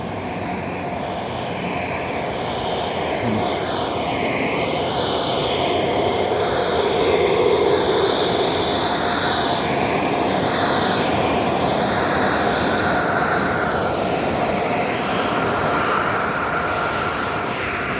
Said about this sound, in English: Look at those industrial blowers.